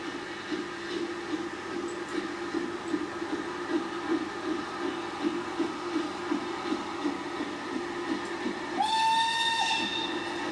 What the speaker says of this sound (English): Awesome whistle.